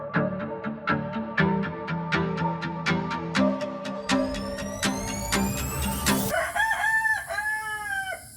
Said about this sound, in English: that rooster is gonna come get us any second